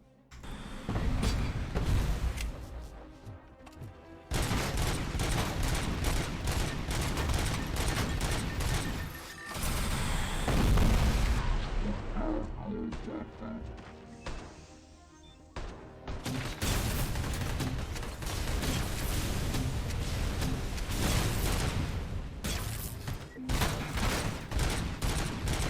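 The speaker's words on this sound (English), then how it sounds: "I'm going to try something with high explosives. Yeah, we're going to go with the one with Doom rounds." Sustained rapid gunfire with heavy impacts and crashes from high-explosive Doom rounds in Robocop: Rogue City, loud and nearly continuous with a few brief lulls.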